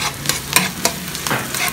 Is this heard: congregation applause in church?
no